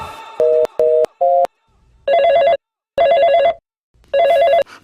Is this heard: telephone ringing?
yes